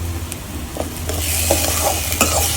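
Five or six whole garlic cloves fry in hot oil for a sweet corn curry, giving a close, loud sizzle with a few clinks of a spoon stirring the pan.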